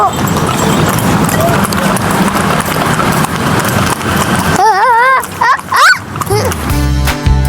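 Horse hooves clip-clop on pavement at a car-free-day street event, a close, steady rhythmic clatter that runs alongside a busy crowd, followed by excited voices and a burst of music near the end.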